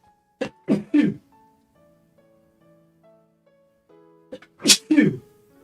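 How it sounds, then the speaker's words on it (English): Two sneezes burst out, a couple of quick sharp ones early and a louder pair near the end, with soft music playing quietly underneath. "Uh-oh, I'm gonna sneeze."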